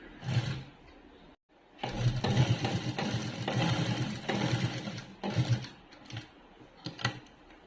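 A sewing machine stitching fabric in a home tailoring lesson: close, whirring mechanical runs in bursts of differing length, separated by brief pauses.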